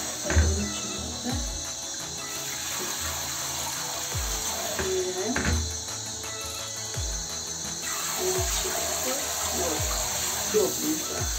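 Tap water runs at a gentle, low flow into a sink or tub while a Scottish Fold cat is bathed, a steady splashing hiss with faint soft knocks underneath.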